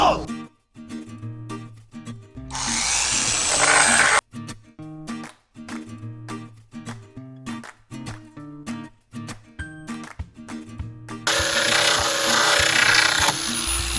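A belt grinder sands fiberglass on an FRP bumper during a camper repair, with loud broadband rasping bursts between rhythmic tool strokes and a voice speaking over parts of the work.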